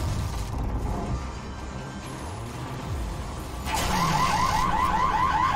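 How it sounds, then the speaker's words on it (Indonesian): An alarm blaring inside an SCP video game facility, a loud, rapidly warbling siren that kicks in partway through over rumbling mechanical background noise. "Dan alarm menyala habis."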